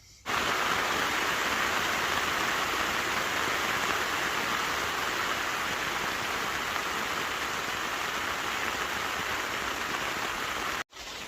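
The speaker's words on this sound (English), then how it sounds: "the rain is definitely coming down now" Rain pounding steadily on an oex Coyote III backpacking tent during a long wet night of camping, a dense unbroken hiss filling the space, briefly cutting out just before the end.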